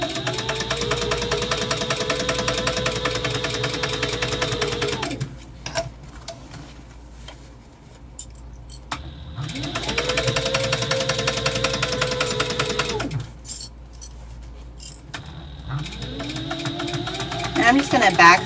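A sewing machine back stitches the ties on a waxed canvas bag, running in three loud, close, mechanical bursts of several seconds each, separated by quiet pauses.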